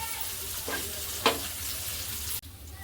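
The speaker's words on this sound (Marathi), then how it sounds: "तर ह्याही बाजूने खरपूसाचे भाजून घेऊया" Bombay duck (bombil) fillets fry in a pan with a steady close sizzle, a couple of brief scraping touches partway through, and the hiss drops sharply near the end.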